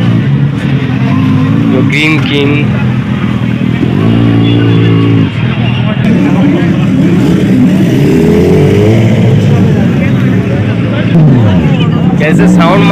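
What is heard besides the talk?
superbike engine revving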